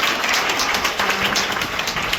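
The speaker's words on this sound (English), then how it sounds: "Let's give a round of applause, right?" An audience applauds at a motivational speaking event, with a dense, steady wash of clapping that fills the whole moment without any talk.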